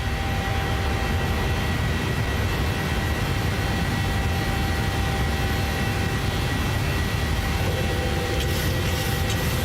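Boeing 737 in Microsoft Flight Simulator 2020 climbing out after takeoff, a steady, broad engine roar with low rumble that holds constant throughout, with no voices.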